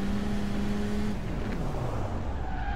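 A car driving away in the racing video game Cobra 11 Burning Wheels, heard as a loud engine roar with a falling tone, a brief tire squeal and a passing sweep that fades out, all within a few seconds.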